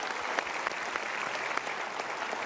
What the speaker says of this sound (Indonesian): sementara kita berikan tepuk tangan dulu